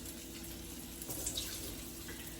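Water poured off a block of tofu into a sink, a soft, continuous trickle and splash, quiet and close, with no talking.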